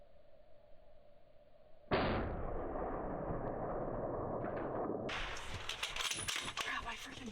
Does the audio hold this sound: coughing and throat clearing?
no